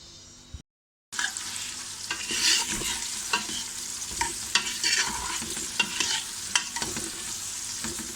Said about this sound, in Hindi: प्रेशर में ऑयल डाल के हमने प्याज को हल्का सा फ्राई करना है, लाइट ब्राउन करेंगे इसको दरमियानी आंच पे।